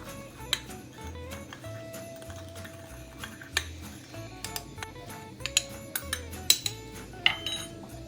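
A utensil mixes nutmeg into a dessert mixture in a bowl, making scattered light clinks and taps against the dish over a quiet background.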